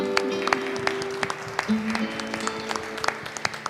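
A church congregation at an Asian fellowship meeting clapping in praise, sparse, irregular claps under a sustained tone and a voice.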